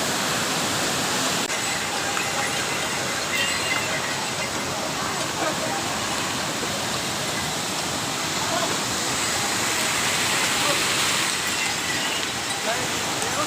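A waterfall on the Kedarnath trek in Uttarakhand, a steady loud broadband rush of falling water that stays constant throughout.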